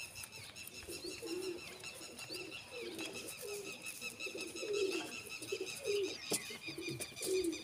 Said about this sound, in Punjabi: ਕਬੂਤਰ ਹੈਗਾ।